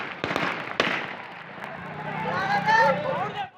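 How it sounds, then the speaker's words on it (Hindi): A few sharp cracks of police gunshots fired into the air ring out near the start amid a noisy, agitated crowd, followed by shouting voices. "गुस्साई भीड़ को तितर बितर करने के लिए पुलिस ने हवा में गोलियां चला दी।"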